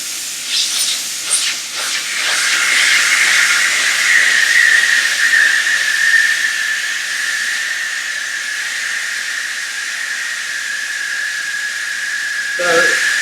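A valve hisses loudly and steadily as a hyperbaric chamber is pressurized, a sharp close rush of air with a high whistling tone that runs for about ten seconds; a voice speaks briefly over it.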